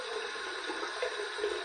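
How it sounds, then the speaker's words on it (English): Hot tap water runs steadily over a Boti shaving brush at a sink, a close, continuous hiss and splash with no talking. "We're going to heat this up under some hot water."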